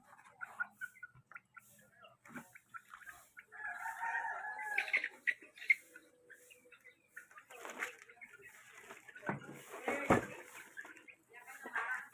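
Chickens cluck and squawk close by in scattered bursts while being fed, with a rooster crowing; a person talks softly among them.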